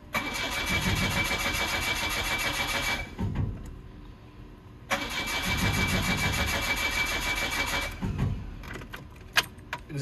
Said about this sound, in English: Exhaust is banging pretty hard.